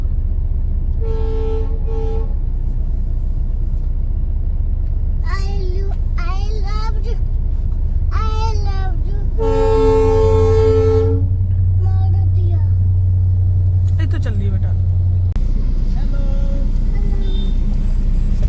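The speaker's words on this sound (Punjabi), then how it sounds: "ਟ੍ਰੇਨ ਆ ਚੁੱਕੀ ਹੈ" A freight train rumbles steadily nearby with a long, loud horn blast in the middle, while people talk over the noise.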